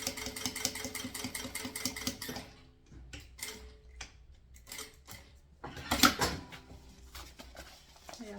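A sewing machine stitches a bag from synthetic nonwoven fabric and makes an unusual noise, with a fast, steady mechanical ticking at first, then a sparser run of knocks and clatters.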